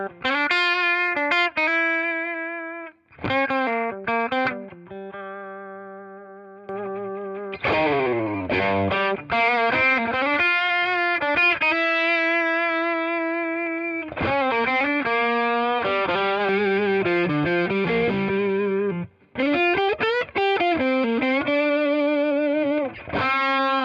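Electric guitar, a 55 Hot Mod reissue, played through a Vemuram Jan Ray overdrive pedal into a Two-Rock Studio Signature amp, sustained driven notes and chords ringing out in phrases with brief pauses.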